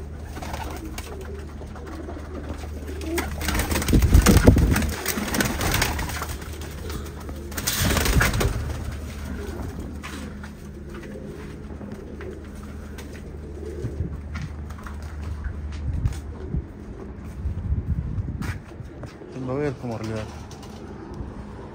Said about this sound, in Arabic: حلو والله خوش طير